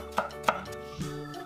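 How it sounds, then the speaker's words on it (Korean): Red chilli is finely chopped with a knife on a board, giving two crisp taps close by against a low background hum. "곱게 썰어줍니다."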